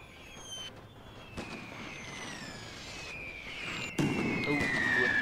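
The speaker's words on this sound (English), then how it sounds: "Oh, artillery strikes." Artillery strikes exploding in a World War I video game, with a steady roar of battle noise, a sharp burst near the end and whistling tones overhead.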